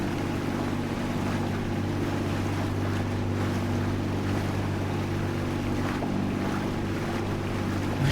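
Boost engine of a boat in a fishing horror video game, a steady low mechanical drone with wind-like noise and water wash running unbroken at constant loudness, with no voices.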